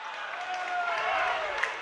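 The Lawrence cheering section at a boys varsity high school basketball game, North Andover versus Lawrence, heard off to one side as a steady distant crowd roar with faint clapping and a shrill whistle-like tone running through it.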